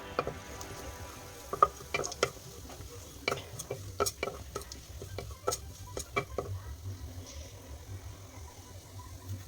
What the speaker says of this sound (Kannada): ಎಣ್ಣೆ ಬಿಸಿ ಆದ ನಂತರ ಸೋಂಕಾಳು ಮತ್ತು ಕಸ್ತೂರಿ ಮೇಥಿ ಹಾಕೊಳ್ಳಿ ಅದನ್ನು ಫ್ರೈ ಮಾಡ್ಕೊಳ್ಳಿ